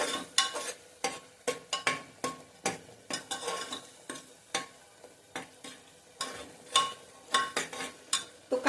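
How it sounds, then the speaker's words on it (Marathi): Onion and masala for pav bhaji are stirred constantly in a pan over high heat. Close, rhythmic spatula scrapes and taps repeat in quick succession over a low sizzle. "गॅस मोठा करायचा आणि सतत हलवत परतून घ्यायचं"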